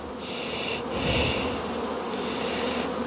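Honey bees buzzing at an open hive: a dense, steady hum of many bees close by, with louder individual buzzes swelling and fading as bees pass near.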